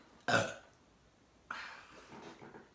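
A loud, short burp, followed a second later by a longer, drawn-out croaky belch that fades away.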